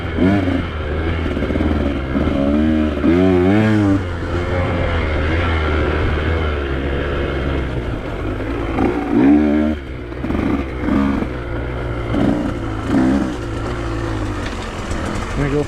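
A dirt bike on a red trail lap revs hard and close, its engine pitch rising and falling as the throttle opens and eases, over a constant heavy rumble.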